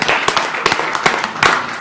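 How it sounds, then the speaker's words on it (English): Applause at a Jefferson County Commission meeting for a student's 4.4 GPA: a brief burst of moderate clapping from a room of people, with a few distinct hand claps standing out. "I'll clap for that"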